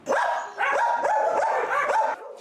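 Several shelter dogs barking and yipping close by in a rapid, overlapping series of loud barks, with no talking.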